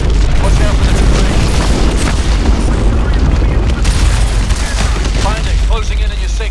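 Heavy missile explosions pound a hydroelectric dam in the shooter game Call of Duty: Advanced Warfare, with loud, dense booms and rumbling blasts rolling continuously, close and powerful throughout, with game voices faintly mixed in.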